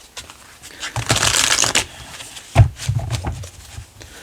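Tarot cards being shuffled by hand, close and crisp, with quick riffling bursts and a sharp tap as the deck is squared.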